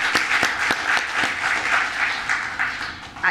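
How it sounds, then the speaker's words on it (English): An audience at a literary conversation event applauds author Elizabeth Nunez, a steady round of many hands clapping with a few distinct sharp nearby claps standing out, sustained throughout. "Can I just ask everyone to give another round of applause to the fabulous Elizabeth"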